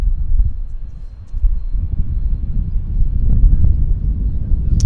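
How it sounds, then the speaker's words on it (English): An ANA Dreamliner airliner on approach at Vancouver Airport, a low, steady rumbling roar that stays loud and constant, mixed with wind buffeting on the microphone. "It's ANA Dreamliner coming in on the north"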